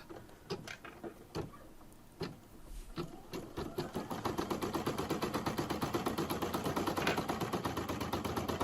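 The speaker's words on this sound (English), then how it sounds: "my design has finished stitching" An embroidery sewing machine stitches a design, starting with a few separate clunks and then settling into a steady, rapid mechanical chatter that grows louder and keeps a fast, even rhythm.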